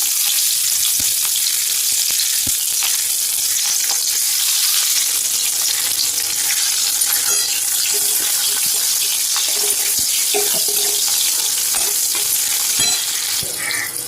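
Onions frying in hot mustard oil for an Odia aloo bagara dish, a steady broadband sizzle and crackle filling the whole stretch, with occasional clinks and stirring sounds close by.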